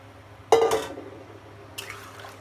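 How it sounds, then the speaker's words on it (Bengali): Water poured into a pot of beef and potato curry for the gravy: a brief, loud splashing pour that quickly trails off, then a faint clink, close and without talk. "ঝোলের জন্য পানি দিয়ে দিলাম।"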